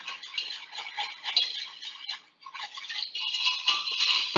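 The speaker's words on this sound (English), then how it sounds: "So kind of slowly whisk it in." Whisk scraping steadily through sausage gravy in a pan, a continuous close-up clattering rasp with small irregular ticks and a brief pause midway, no talking.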